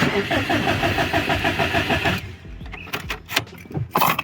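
A car engine cranks rapidly and rhythmically for about two seconds without catching, then the starter cuts out, leaving scattered clicks and handling noises.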